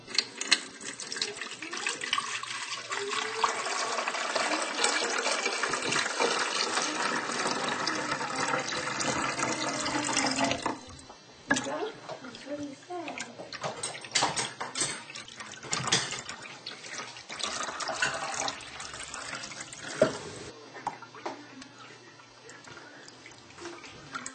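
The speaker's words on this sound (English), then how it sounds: "fill the water reservoir with cold water, and then put the lid back on top" Cold water runs steadily into a coffee maker's reservoir for about ten seconds, then continues in more broken splashes and pours, close by and fairly loud, with no talking.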